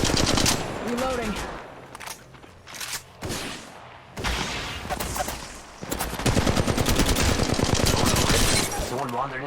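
Automatic machine gun fire in a shooter video game, sustained loud rattling bursts broken by short pauses, close and dense, with voices talking over parts of it.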